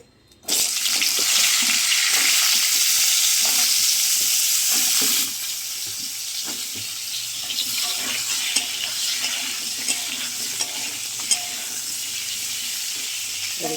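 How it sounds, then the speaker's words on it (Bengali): Loud hiss as potato and pointed gourd pieces hit hot oil, settling after a few seconds into a steady sizzle of frying with occasional clinks and crackles. "আলু পটলটা ভাজা হোক"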